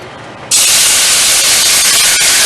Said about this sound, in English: Then we're going to go ahead and add the coconut milk.